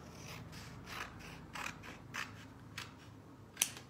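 Scissors trim the excess cover off a paperback book, giving a few faint, quiet snips and rustles up close, ending with one sharper click.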